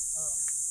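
Crickets in a mangrove forest keep up a constant loud, high shrill chirring, with a brief faint voice-like murmur underneath.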